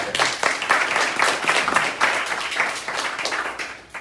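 An audience at a Philadelphia awareness mixer event applauds for a speaker, a dense sustained round of clapping from many hands at close range, fading slightly near the end.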